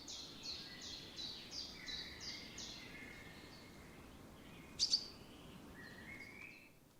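Birds chirp and trill in the distance, a rapid repeated song followed by scattered calls and one brief sharp double chirp, over faint outdoor ambience.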